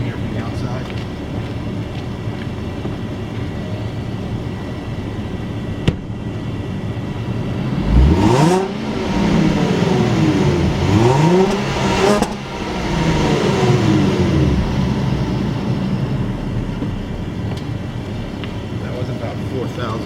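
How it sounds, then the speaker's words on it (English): A 2015 Range Rover HSE heard from outside as its engine is revved twice to about 4,000 rpm, each rev rising sharply and falling back, close and loud over a steady idle. "I'm just gonna go in here and rev it a couple times so you can hear from the outside"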